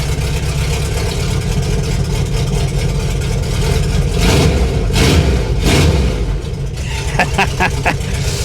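A 1988 car engine with its muffler cut off runs loud and rough in a garage, its raw exhaust surging in a few heavier revs, while people talk briefly nearby.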